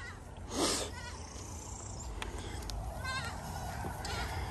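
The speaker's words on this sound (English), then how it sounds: "Madison, the little bitty goat I just showed you" A tiny micro La Mancha goat with very small ears gives a short bleat early on, then fainter calls follow over steady farmyard background noise, with no one speaking.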